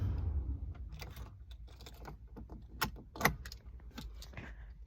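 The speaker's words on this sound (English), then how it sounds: "Put the key in." Key sliding into the ignition of a 2020 Ram Warlock pickup with a 5.7 Hemi, heard as close metallic jangling and clicks scattered over a few seconds, with a couple of sharper clacks near the end.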